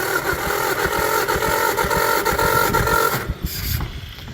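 Old John Deere MV tractor engine running after a restoration, a loud close rough chugging rumble with rapid irregular firing that cuts out abruptly, leaving a quieter tail with small knocks.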